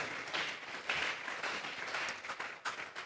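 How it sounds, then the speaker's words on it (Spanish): Congregation applauding during a church sermon, a sustained wash of many hands clapping, faint and somewhat distant. "Vamos a regalarle ofrenda de palmas al Dios de la gloria."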